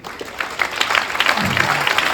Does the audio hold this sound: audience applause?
yes